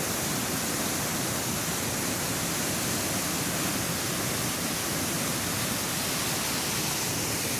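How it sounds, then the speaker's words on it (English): River rapids rushing below Sol Duck Falls, a dense, continuous broadband roar of whitewater that stays steady and loud throughout, with no voices over it. "you can see where the rapids are coming out"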